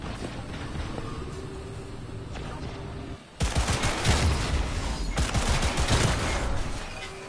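Gunfire in Cyberpunk 2077, rapid bursts of loud shots kicking in abruptly after a quieter stretch and continuing in dense, rattling volleys to the end.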